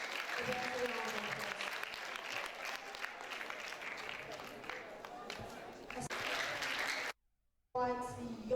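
A round of applause fills the hall at an International Day of the Girl Child event, steady crowd clapping that runs for seconds, cuts out briefly, then resumes with a voice over it.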